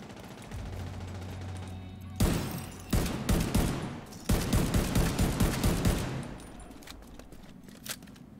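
Gunfire in The Division 2 video game: a few sharp, loud single shots, then a rapid volley of regular, punchy bursts that trails off into scattered faint pops.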